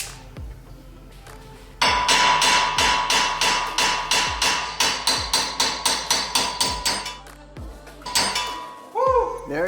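Hammer blows driving a broken wheel stud out of the hub on a 2015-or-later Subaru WRX, a fast run of about twenty loud metallic strikes with ringing clinks, followed by a brief voice at the end.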